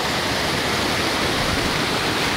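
The flooded Horcajo river at Cuevas del Valle rushes past in a loud, dense, unbroken roar of water, heard close up without any voices.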